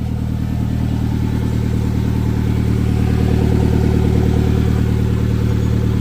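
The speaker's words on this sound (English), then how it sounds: "That sound is where the OT sensor's missing." Lifted Suzuki Jimny engine idling loud and close with a missing sensor, a steady rhythmic clattering pulse over a constant low drone for the whole stretch.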